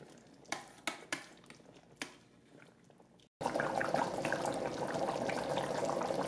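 Chicken curry reducing on the sauté setting of an Instant Pot Duo Mini: a few soft clinks first, then after a brief pause a steady, fairly loud bubbling simmer that continues without talk.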